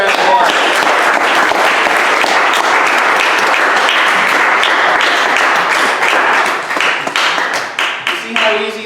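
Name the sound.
audience applause for speaker Gilson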